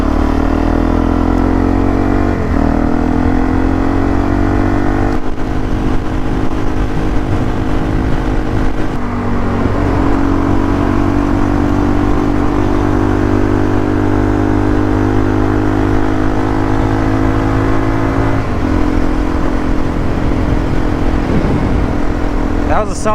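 A Suzuki DRZ motorcycle cruises at steady highway speed, its engine holding a constant droning hum under heavy wind rush, with a brief dip and recovery in pitch partway through.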